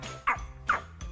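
A dog gives two or three short, soft yips or barks at regular intervals, fairly quiet and close, in an otherwise still indoor space.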